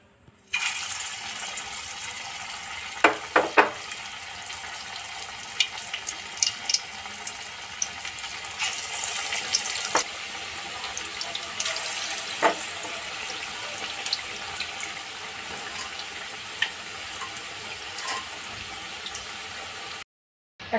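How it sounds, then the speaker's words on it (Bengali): Water lily pakoras fry in hot oil with a steady, bright hiss of sizzling, broken by a few sharp crackles and pops, heard close up and alone, stopping abruptly at the end. "এবার পকোড়াগুলো দিয়ে দেব।"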